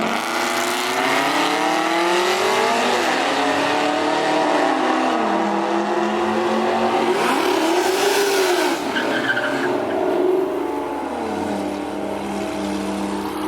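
Race cars lapping a track, including a Nissan Maxima, with engines revving up and down through gears, rising and falling tones and tire squeal, loud and continuous from moderate distance, no talking.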